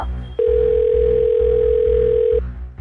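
A steady, continuous telephone dial tone hums for about two seconds, clear and close, then cuts off abruptly.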